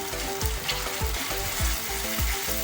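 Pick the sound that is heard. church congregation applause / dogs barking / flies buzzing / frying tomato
frying tomato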